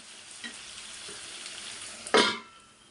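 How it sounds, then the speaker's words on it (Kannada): Tomatoes frying in a pan give a steady soft sizzle, with a brief louder stirring scrape near the end. "ಇನ್ನೂ ಇದು ಟೊಮೊಟೊ ಸ್ವಲ್ಪ ಫ್ರೈ ಆಗಲಿ."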